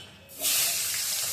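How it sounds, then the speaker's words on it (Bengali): Fenugreek seeds hit hot oil in a pan and burst into a loud, steady sizzling hiss that starts abruptly after a quiet moment and holds close and bright. "এবার ফোড়ন দিব, ওই যে মেথি ফোড়ন"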